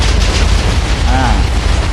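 A loud, rumbling Minecraft TNT explosion fills the clip, a dense noisy blast with a brief tonal whine partway through.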